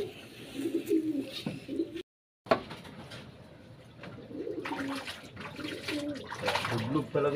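Young pigeons coo softly while being bathed in a loft, with water splashing and sloshing around them and a brief silent gap partway through; a voice speaks faintly in the background.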